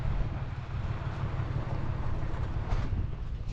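Wind blows across a field during milo harvest, a steady, loud low rumble and buffeting against the microphone with broadband rushing noise, continuous and unbroken.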